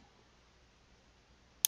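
A single computer mouse click while working in Photoshop, sharp and close, after near silence.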